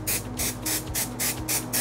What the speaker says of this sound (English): I could use a little bit of spray adhesive and I could spray just my frame